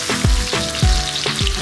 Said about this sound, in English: now we will prepare tadka for this. So tadka with oil.